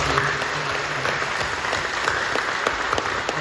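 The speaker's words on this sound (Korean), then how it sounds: "우리 환영하고 또 감사하는 마음으로 박수 한번 해주실까요?" A church congregation applauds in a welcome. The clapping is steady and dense, fills the hall at moderate loudness and lasts the whole moment.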